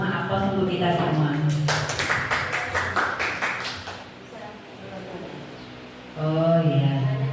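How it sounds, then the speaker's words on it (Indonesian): Meeting participants break into a short burst of scattered hand clapping lasting a few seconds, between stretches of speech. "aplaus untuk kita semua"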